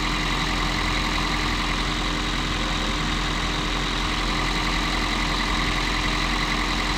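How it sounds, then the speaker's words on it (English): A Toyota Prius engine bay with the air conditioning compressor running, a steady droning hum with a constant low rumble, unchanging and close. "now the compressor kicks in"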